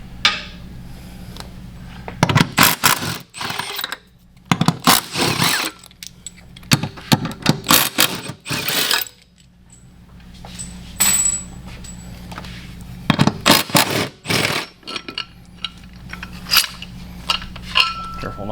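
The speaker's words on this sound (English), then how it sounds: "Now we can loosen the bolts for the cross member and get it down out of the way." Metal bolts being loosened and a transmission cross member removed from under a Dark Horse Mustang with a TR3160 gearbox, heard as bursts of metallic clanks, rattles and tool clatter separated by quieter gaps.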